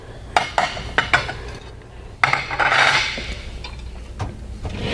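Dishes and cutlery clink and clatter while a dishwasher rack is loaded, with sharp separate knocks early on and a denser rattle of ceramic and metal later, close by with no talk.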